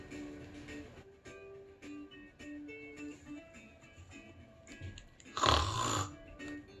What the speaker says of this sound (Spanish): Ronquido.